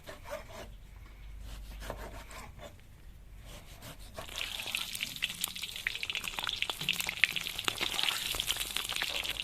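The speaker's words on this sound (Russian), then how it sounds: "Закидываем обжариться морковку" Chopped carrots hit a hot pan and start frying, a close, steady crackling sizzle that builds after some quieter scraping and stirring.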